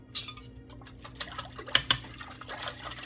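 Egg and vanilla mixture for a baked French toast casserole is whisked by hand in a bowl, making quiet, quick scraping and clinking strokes with a few brighter metallic taps, close by and without talk.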